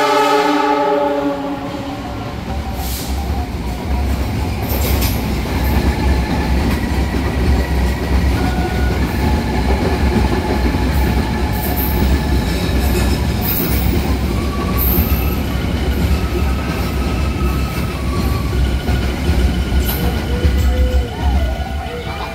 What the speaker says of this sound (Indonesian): Wih, mantap ya naik kereta loko uap.